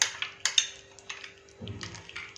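A spoon stirs Kathiyawadi whole onion curry with fresh cream and chopped coriander in a pan. It gives a few light, sharp clinks and scrapes against the metal, followed by softer, wetter scraping.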